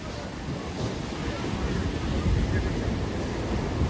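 Surf washes steadily onto Kola beach in Goa, a continuous broadband roar with wind buffeting the microphone, growing slightly louder toward the end, with no clear voices.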